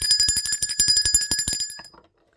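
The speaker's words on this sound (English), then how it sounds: "Let's ring the bell for that." Bell ringing rapidly and continuously, a bright metallic trill of quick strikes with sustained ringing tones, loud and close, then cutting off and stopping after about two seconds.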